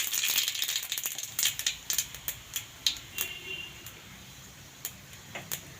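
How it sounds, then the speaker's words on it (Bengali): Bay leaves and radhuni seeds dropped into hot oil crackle and spit in a quick run of sharp ticking pops that thin out, heard close and fairly faint with no talking. "এই তেজপাতা আর রাঁধুনি ফোড়ন দিয়ে দেব।"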